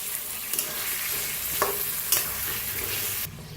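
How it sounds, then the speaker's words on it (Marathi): Brinjal pieces stirred gently with masala in a hot frying pan: a steady close sizzle broken by a few scraping, clacking spoon strokes, then cutting off abruptly. "वांगी आता ह्याच्यातच टाकूया उरलेला मसाला आणि मिक्स करूया थोडंसं हलक्या हाताने भाजीला"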